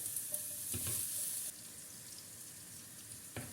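Chopped onions sizzle and crackle steadily in a hot pan, with occasional stirring scrapes.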